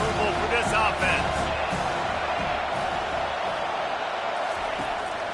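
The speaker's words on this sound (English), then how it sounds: "These fans are going absolutely nuts." A large crowd of NCAA football fans roars loudly and steadily throughout the stadium, with cheering and whoops blending into a dense, continuous wall of noise.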